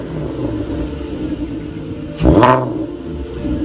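A 3.2 liter VR6 engine in a Volkswagen R32, a low rumbling idle with one sharp rev that rises briefly and falls back, heard near and without talk.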